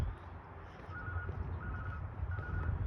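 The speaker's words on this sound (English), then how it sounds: "it's a phone ringing." A faint electronic ringing tone repeats three times in short bursts, each about a third of a second long, over a low rumbling background hum.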